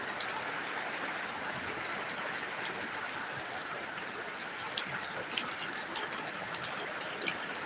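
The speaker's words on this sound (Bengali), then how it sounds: "থেমে থেমে বৃষ্টি হচ্ছে আর ঝড় সাথে" Rain falls steadily in a dense, continuous hiss, with scattered louder drops and a windy rush. This is a stormy downpour in Bhandaria, Pirojpur district, and no one speaks.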